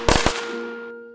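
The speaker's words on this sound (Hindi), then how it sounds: "गली में सब लोग न्यू ईयर के लिए पटाखे बॉम्ब सब जला रहे थे।" Two or three sharp cracking bangs burst in quick succession, like firecrackers set off in a street for New Year, followed by a ringing metallic tone that fades out.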